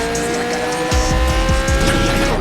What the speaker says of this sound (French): Allez, j'accélère.